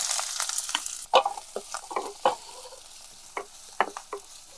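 Green chili, onion and curry leaves spit and crackle loudly as they hit hot oil, followed by a steady sizzle with repeated sharp pops and stirring scrapes; nobody speaks.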